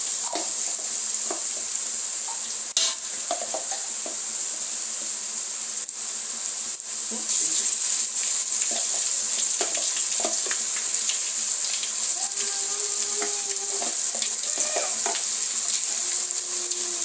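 Ginger garlic paste sizzles and fries steadily in a hot pan while vegetable biryani is being made, a constant bright crackle with occasional stirring scrapes and no talking.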